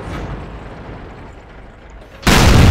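A tank cannon round fired in a tank video game, a sudden loud, close boom after a stretch of low engine rumble and battle ambience.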